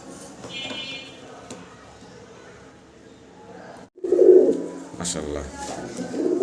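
A restless pair of pigeons at a farm loft gives soft cooing calls that come through faintly at first, then a louder, closer coo near the middle, with quiet background noise around them.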